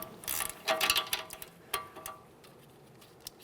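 An 18mm ratcheting wrench turning a front strut nut on a 2017-2024 GMC Acadia, giving quick faint clicking ratchet bursts, a short flurry near the start and a few isolated clicks after, close and quiet with no talk.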